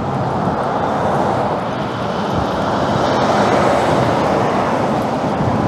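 Heavy trucks rumble past on a highway beside a hotel, a steady broadband roar of engines and tires that swells slightly midway, loud and continuous with no talking.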